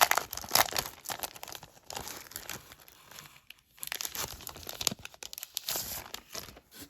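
Crinkly plastic packaging of a sticker set being torn open and handled, with repeated close crackling and rustling bursts in short irregular spurts and a brief pause midway.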